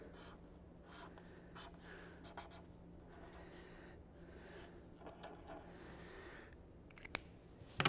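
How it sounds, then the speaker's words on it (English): A secret message pen scratches faintly across a surface in short, quiet strokes, close up, with soft handling rustles and a few small clicks near the end. "This is a secret message pin. So I can write a message in secret."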